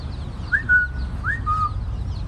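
Chicks cheeping outdoors in the sun in Oaxaca, two clear rising peeps about a second apart over low background noise.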